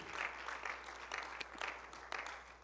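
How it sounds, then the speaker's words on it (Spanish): Faint church congregation applause at the close of a Spanish-language service, soft steady clapping with irregular louder claps, distant and low in level. "dele una ofrenda de aplausos al Señor"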